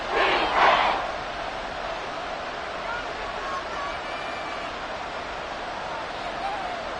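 An American football stadium crowd roars steadily to try to force a false start on third and inches, a dense, loud wall of noise that swells briefly at the start and then holds level throughout.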